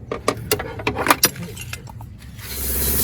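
A power handle ratchet with a 14mm socket is worked while removing a belt on a Nissan Urvan, giving several sharp metallic clicks and clanks close up, then fading into a steady hiss toward the end.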